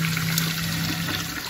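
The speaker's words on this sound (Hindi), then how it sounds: "ते पानी भी पा दिंदे जी पानी तकरीबन पावांगे 1 लीटर" A continuous rush of about a liter of water pouring and splashing into a cooking pot, steady and close for the whole moment.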